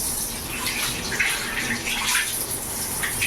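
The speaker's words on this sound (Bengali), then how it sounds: "এবার যেহেতু আমি পাতুরি করব, আমি কলা পাতাগুলো ধুয়ে নেবো।" Banana leaves rinsed under a running tap, a continuous splashing gush of water with light spattering, close and steady throughout.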